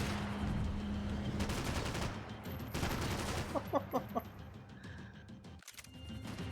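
Gunfire in the video game Max Payne 3: a dense, busy game soundscape with a quick cluster of sharp shot bursts near the middle, followed by a sudden break.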